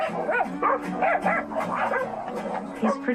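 A dog named Obo barks and yips repeatedly in short, close bursts with a whimpering edge, at a place where horses are kept.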